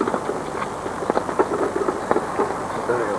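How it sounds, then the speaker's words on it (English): Rain falls at a carp fishing lake, a steady soft hiss with scattered drops pattering on nearby surfaces, fairly faint and continuous. "There's the rain."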